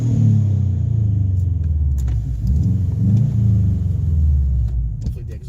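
A 2004 Subaru Impreza WRX STi idles nearby with a deep, loud, rumbling exhaust burble that rises and falls slightly, plus a few light metallic clicks.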